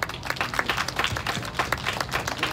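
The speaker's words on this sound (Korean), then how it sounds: "큰 박수 부탁드립니다." Audience applause at an outdoor memorial rally for victims of a factory disaster, a brisk cluster of close, sharp hand claps from a small crowd, steady for a couple of seconds.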